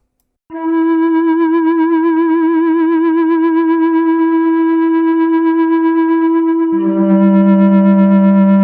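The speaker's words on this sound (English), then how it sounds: "vibrato is what you would be used to as vibrato" A steady tone from a physical modeling synthesizer with a fast, even vibrato wobble holds for several seconds, then shifts abruptly to a lower, buzzier note near the end.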